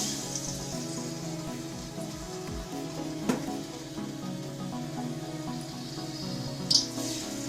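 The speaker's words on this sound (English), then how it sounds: "So while the cauliflower is frying" Cauliflower in batter crackles and sizzles steadily in hot oil, a constant frying hiss broken by a couple of sharp pops.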